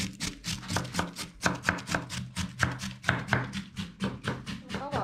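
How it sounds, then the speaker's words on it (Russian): A knife shreds cabbage on a cutting board in a steady, brisk rhythm of close, crisp chops that continue without pause, with no voices. "Шинковала я капусту."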